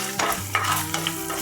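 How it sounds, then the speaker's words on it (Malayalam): A spoon stirs bread upma in a hot pan, scraping and sizzling quietly in a steady, close rhythm through a short moment of stirring. "ഇത് നന്നായി ഒന്ന് ഇളക്കി കൊടുക്കാം."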